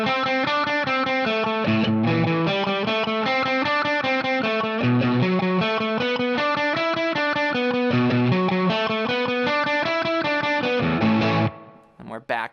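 A distorted electric guitar plays a driving riff from a song, with fast, steady chugging notes and chord changes, loud and close for about eleven seconds before it stops abruptly.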